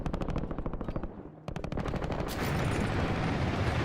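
PPSh submachine gun firing in Call of Duty Warzone, long rapid full-auto bursts that are loud and close, with a brief pause and then a dense, continuous stream of shots and no talk.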